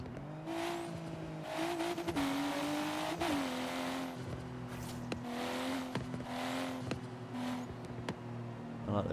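A BMW M4 in the Forza Horizon 3 racing game revs and shifts through gears with a sustained engine drone, stepping in pitch, overlaid by sharp exhaust crackles and pops, moderately loud and without speech.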